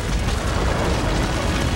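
A huge film special-effects explosion for the action movie Universal Soldier makes a thick, sustained roar of deep rumble and broad noise that stays loud and even, with no separate blasts or voices.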